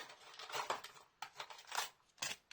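A Beyblade package is ripped open by its tab in a few quick, faint tearing bursts of rustling plastic and cardboard.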